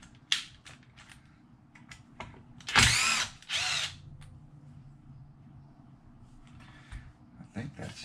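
A cordless drill gun fires in short bursts and two longer whirring runs, driving screws on a Traxxas Sledge RC truck, close and sharp, with soft handling clicks and rustling between bursts.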